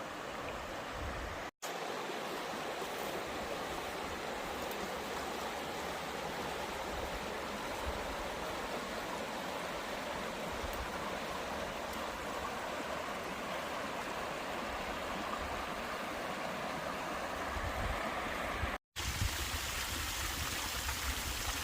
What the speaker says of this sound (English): So this same parking spot, you got a little waterfall here.